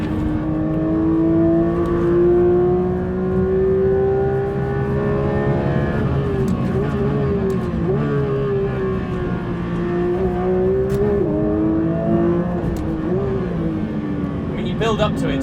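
Porsche GT3 RS Weissach on a race track, the engine climbing and dropping in pitch as it pulls out of corners, a loud in-car roar with repeated surges and brief gear-change dips beneath a talking driver.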